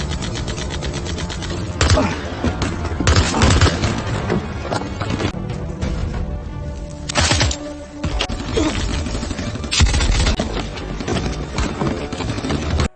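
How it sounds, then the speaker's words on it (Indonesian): A gunfire exchange in an action film: rapid bursts and volleys of shots in dense, loud clusters, layered with a busy soundtrack and a voice talking over it. "hingga baku tembak pun terjadi"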